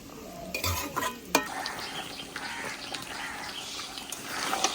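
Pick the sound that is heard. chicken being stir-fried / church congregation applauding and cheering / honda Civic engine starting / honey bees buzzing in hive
chicken being stir-fried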